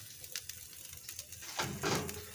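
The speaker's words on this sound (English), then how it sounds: "Putting the potatoes down there, man. Woo! You see it sizzling." Soft crackling sizzle of potatoes frying in a pan, growing louder and busier toward the end, with no talking.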